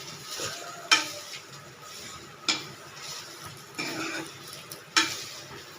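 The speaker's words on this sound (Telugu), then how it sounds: "ఇప్పుడు చూడండి, నువ్వులు, ఇదే మన సీక్రెట్. వేసుకున్నాం కదా, ఇప్పుడు కొంచెం ఫ్రై చేసుకోవాలి." Sesame seeds fry in a pan while a utensil stirs them, giving a steady soft sizzle broken by a few sharp scraping strokes against the metal at irregular intervals, close and without talk.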